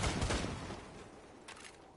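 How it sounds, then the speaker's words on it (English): A dense burst of rapid gunfire from Rainbow Six Siege plays close and loud, then trails off over a couple of seconds. "Holy shit, who's shooting?"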